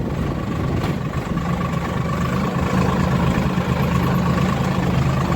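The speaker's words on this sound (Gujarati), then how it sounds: "જુઓ તમે આ ટ્રેક્ટર જોજો" A Sonalika tractor's engine idles steadily close by, a low continuous rumble with a faint mid-pitched hum that holds even throughout, with no talking over it.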